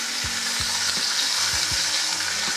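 A ribeye steak sears in a cast iron skillet with a loud, constant sizzle, while several low, evenly spaced thuds sound beneath it, and no one speaks.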